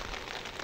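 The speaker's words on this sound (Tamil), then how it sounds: "இந்த சரியான மழை பெய்து கொண்டிருக்கு பாருங்க." Steady heavy rainfall on a street in Jaffna, a constant close wash of hiss heard alone for a moment.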